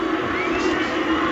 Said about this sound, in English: A boo from somewhere